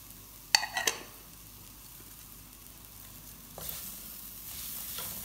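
Onion, carrot and green chilli stir-fry in a pan, starting with a few sharp scrapes and clatters, then a soft, steady sizzle and a later burst of louder frying.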